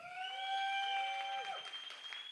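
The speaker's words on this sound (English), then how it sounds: "Give yourselves a round of applause." An audience at a comedy show applauds steadily while a loud, sustained voice-like whoop rings over the clapping, then tapers off.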